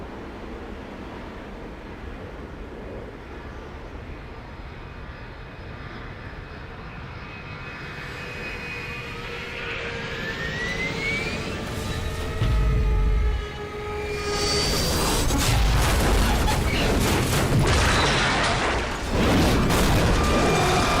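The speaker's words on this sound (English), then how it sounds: "I think maybe I'll elect not to include the plane crash for the ambience video." An airliner crashes in Left 4 Dead's Dead Air campaign: a jet engine roar builds and whines loudly for several seconds, then gives way to heavy crashing impacts and a sustained, rumbling wash of debris.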